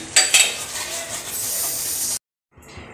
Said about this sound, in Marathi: हा मी मसाला टाकते आहे दोन चमचे